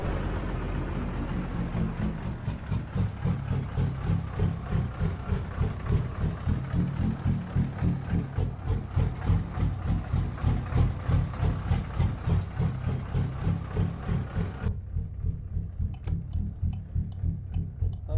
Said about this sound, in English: listen to that freaking engine, man. This engine's so nasty.